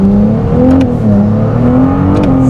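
A Ferrari 296 GTS engine accelerates on a bumpy road, a steady loud drone from inside the car that rises in pitch, dips briefly, then climbs again through the short stretch.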